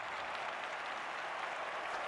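Olympic stadium crowd at London 2012 applauding in a steady, dense wash of clapping and cheering that holds evenly throughout, fairly distant and without pauses.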